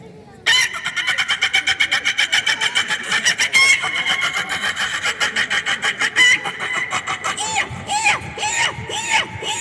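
A stage comedian imitates a hen cackling after laying an egg. His voice makes a long, rapid, loud run of rhythmic clucks that speed up and break into louder squawks near the end.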